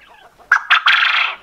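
Caged quails, females and males kept apart, let out a burst of loud clucking and chattering calls close by, after a quieter lead-in of softer chirps.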